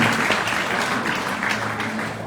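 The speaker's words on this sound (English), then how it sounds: "Can we please have a big round of applause for all of you?" Audience applause fills a hall at a women-in-diplomacy event, a dense, steady clapping that stays loud and continuous from start to finish with no voices over it.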